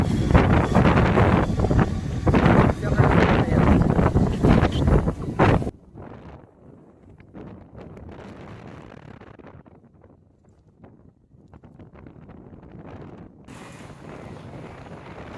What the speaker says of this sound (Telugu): ఎంత ఘోరంగా పడుతున్నాయి వర్షం.